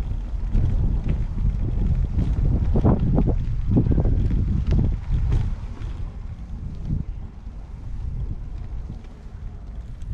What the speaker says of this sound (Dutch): Oh kijk, een boot vaart uit.